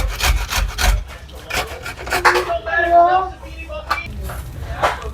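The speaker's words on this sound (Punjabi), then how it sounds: "ਮੂਲੀ ਕੰਡੇ ਨਾਲ ਅਸੀਂ ਇਹਨੂੰ ਕਰ ਲੈਣਾ" Mango is grated by hand on a grater, giving close, rough rasping strokes in bursts, with a person talking during and between them.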